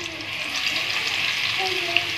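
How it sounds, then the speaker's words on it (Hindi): Ginger garlic paste fries in hot oil for potato cutlets, giving a steady, close, even sizzle for the whole moment with only faint shifts in texture. "अब हम इसमें शामिल करेंगे 1 टेबल स्पून लहसुन अदरक का पेस्ट"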